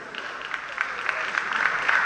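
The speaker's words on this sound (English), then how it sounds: "I beg, clap for yourself." Audience at a Nigerian stand-up comedy show clapping, a moderate spatter of applause that swells slightly toward the end, with a voice talking over it.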